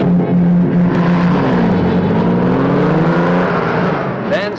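A Corvair Monza Spider with a 150 horsepower turbocharged rear engine and optional four-speed stick, revving loud and close with a rising and falling engine tone, under a narrating voice.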